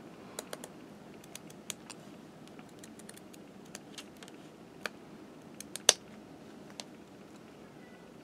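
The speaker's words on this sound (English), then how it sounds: "now I'm just going to cut all the way along the edge there until I get to the edge on the other" Scissors cutting plastic canvas along the edge, a faint, close series of sharp irregular snips and clicks spread over several seconds, with one louder snap near the end.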